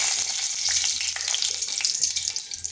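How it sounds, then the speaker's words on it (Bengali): Black cumin seeds and a dried chili sizzle steadily in hot oil in a wok, a dense close crackle that runs alone without pause. "কড়াইতে দিয়ে দিচ্ছি তেল, দিয়ে দিচ্ছি কালো জিরা, একটা শুকনো লঙ্কা"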